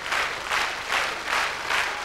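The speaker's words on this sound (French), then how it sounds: "Sous vos applaudissements, on la reconduit en coulisses." A television studio audience on a French variety show applauds a performer, steady dense clapping that swells and dips in waves, fairly loud and close, with no talking over it.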